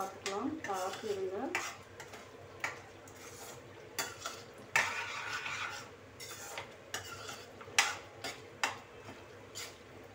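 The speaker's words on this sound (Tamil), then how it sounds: "இப்போ உப்பு சேர்த்து கிளறி கொடுங்க" A utensil scrapes and stirs tomato, onion and garlic pickle with added salt in a pan, with soft sizzling and irregular clinks of metal against the cookware.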